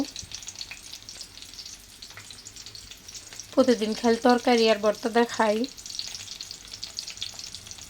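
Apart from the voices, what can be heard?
small koi fish frying in hot oil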